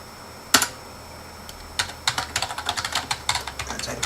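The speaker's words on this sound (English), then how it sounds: "type my password" Keystrokes on a computer keyboard as a password is entered, a single sharp tap followed after a pause by a quick run of about fifteen close, crisp key presses with no talking.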